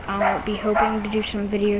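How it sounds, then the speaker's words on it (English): Pet dog Rosie gives a run of pitched barks and yips mixed with someone speaking over them. "That's my dog, if you can hear her in the background."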